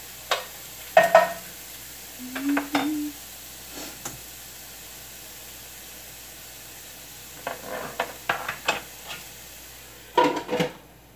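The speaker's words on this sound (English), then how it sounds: "Get those in the skillet, give it a stir" Vegan spaghetti ingredients are stirred in a skillet, giving scattered bursts of utensil scrapes and clinks over a faint, steady sizzle.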